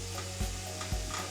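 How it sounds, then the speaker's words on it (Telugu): Prawns frying in a pan for Andhra-style biryani, a dense, even sizzle close by, with two brief low thumps from stirring; no talking. "ఈ విధంగా గోల్డెన్ బ్రౌన్ కలర్ వచ్చేంత వరకు ఫ్రై చేసుకోవాలి."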